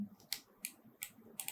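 Four separate keystroke clicks on a computer keyboard land in an uneven rhythm. Each tap is crisp and close, and nothing but faint room quiet sits between them.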